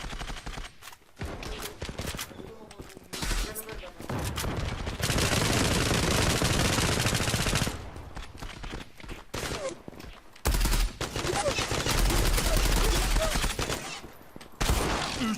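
Galil assault rifle fire in a first-person shooter game, loud sustained automatic bursts with short gaps between them, plus scattered single shots and in-game action noise.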